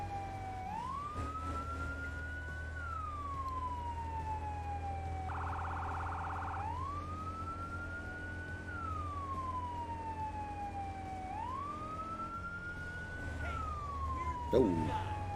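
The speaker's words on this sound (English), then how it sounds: "that's what he gets for trying to move when we have our sirens on." A fire engine siren wails steadily in the Firefighting Simulator: The Squad video game, rising and falling in long slow cycles with a brief yelp burst, over a low engine rumble.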